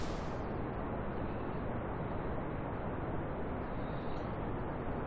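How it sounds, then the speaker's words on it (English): A rocket's second stage fires in Kerbal Space Program, a steady, dense, loud roar that holds unbroken throughout with no voices over it. "Okay, so this is the second stage going off."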